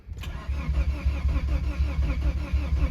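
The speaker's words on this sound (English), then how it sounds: "the car's cranking, but it won't fire and actually start." A DSM car engine with a crank-no-start fault cranks repeatedly, the starter turning the engine over in a fast, steady, pulsing rhythm close by without the engine catching or firing.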